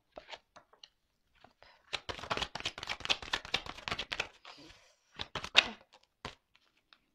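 Tarot cards being shuffled close up: a dense run of crisp riffling and slapping card sounds in quick bursts, with a few isolated flicks before and after, no talking.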